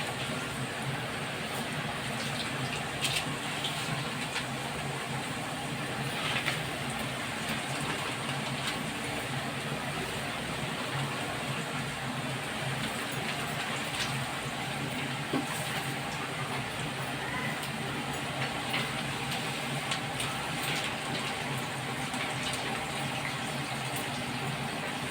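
Homemade evening snacks frying in well-heated oil, a steady broadband crackling hiss that stays even and continuous throughout, close up, with no talking over it.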